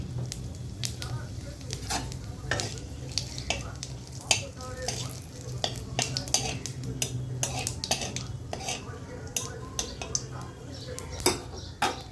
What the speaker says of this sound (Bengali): দিয়ে দিলাম শুকনো লঙ্কা আর দিলাম তেজপাতা দিলাম জিরে